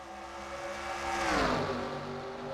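Racing-game stock cars at Pocono run nose to tail in a freight train line, a steady droning engine whine that swells and shifts pitch mid-clip as the pack passes, with no voice heard.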